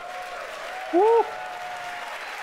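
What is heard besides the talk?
audience applause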